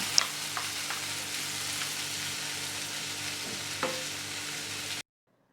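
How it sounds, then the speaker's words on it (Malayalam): Tempered mustard seeds are poured over an okra milk curry and gently stirred with a spoon: a soft continuous sizzle with a few faint clinks, quiet and close, cutting off abruptly. "ഇനി കടുക് താളിച്ചത് നമുക്ക് കറിയുടെ മുകളിലേക്ക് ഒഴിച്ചു കൊടുക്കാം."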